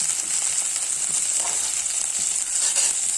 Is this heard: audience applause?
no